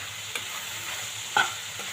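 Okra (ladies finger) frying with garam masala in a pan, a steady close sizzle broken by a couple of sharp scrapes and stirs of a spoon, no talking.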